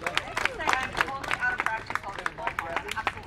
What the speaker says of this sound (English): let's give her a round of applause right here and now